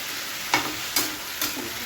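Lekhra potato fry cooking in an oiled pan, a continuous close sizzle broken by three sharp scraping stirs at regular intervals.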